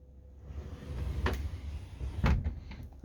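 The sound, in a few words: door sliding closed along overhead tracks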